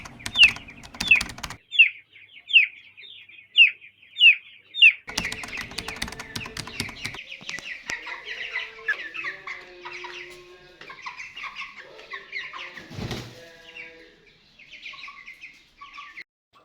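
Broiler chickens in a poultry house where birds are falling sick and dying from spoiled bedding, with a run of rhythmic clucks and chirps at first, then a busy, steady flock chatter close by.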